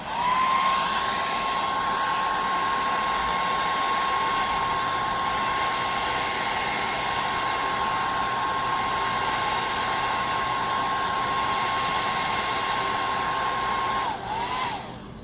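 A heat gun or hair dryer blows hot air on vinyl graphics on a Dodge Challenger, giving a steady, close whirring whine with a fixed tone that holds for about fourteen seconds before cutting off.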